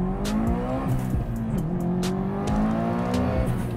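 A street-driven performance car, owned for fifteen years, is driven hard at full throttle, its engine droning loudly and steadily with shifting pitch and bursts of tire noise, close and continuous.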